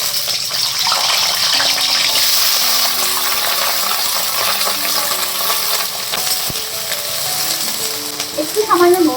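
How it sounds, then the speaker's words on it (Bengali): Cauliflower frying in a hot pan in a home kitchen gives a steady, loud sizzle that runs throughout, with a few light clinks and stirring noises toward the end. "ফুলকপিগুলো এর মধ্যে দিয়ে দিচ্ছি।"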